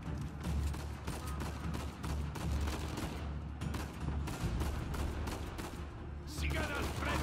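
Gunfire in the Uncharted 4 video game, rapid repeated shots in bursts with faint booms, heard at moderate level.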